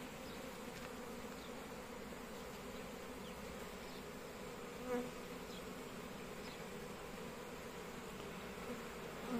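A dense, steady hum of many honeybees buzzing close by at an open multi-storey hive, continuous and low, with occasional individual bees passing nearer.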